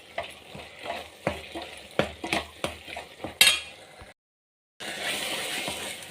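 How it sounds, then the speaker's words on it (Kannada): A spoon scrapes and clinks steadily as chili powder is stirred into a brinjal and tomato sambar, with a soft sizzle beneath; the stirring stops briefly into silence, then a continuous bubbling hiss resumes. "ಈಗ ಇದಕ್ಕೆ ಖಾರದ ಪುಡಿ, ಹಾಕಿ ಸ್ವಲ್ಪ ಮಿಕ್ಸ್ ಮಾಡೋಣ."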